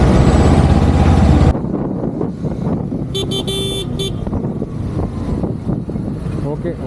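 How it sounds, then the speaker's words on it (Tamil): Heavy holiday road traffic packed with buses on the way out of Chennai: a loud, continuous roar of engines and rumbling vehicles, with a short honking horn partway through and someone speaking over it. "அதனால் சரியான டிராஃபிக்கு."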